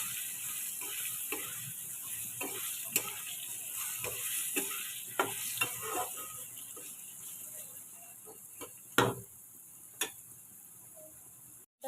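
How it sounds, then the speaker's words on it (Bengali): Potatoes coated with turmeric fry in a pan, a soft steady sizzle under scattered sharp ticks and scrapes of stirring, with one louder clatter near the end. "দিয়ে আলুটাকে ভালো করে ভাজবো, লাল লাল করে আলুটাকে ভেজে নেবো।"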